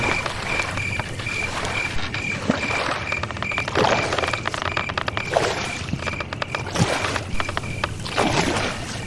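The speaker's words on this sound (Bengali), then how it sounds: "মাঝি ভাই, একটু তাড়াতাড়ি চালাও" A boatman rows a small boat across a river, with oars splashing and water gurgling in a steady rhythm over a continuous watery background.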